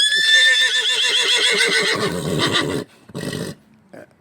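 A crossbred Spanish horse gives a loud, close whinny lasting nearly three seconds, its shrill neigh wavering and fading, followed by a brief snort-like burst after a pause.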